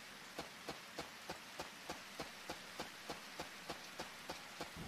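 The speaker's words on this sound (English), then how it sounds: "It's raining really, really heavily." Heavy rain falling in the Harvest Moon: Sunshine Islands farming game, a steady hiss with soft regular taps repeating about every third of a second, fairly faint and with no talk.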